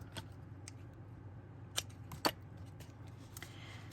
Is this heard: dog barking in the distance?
no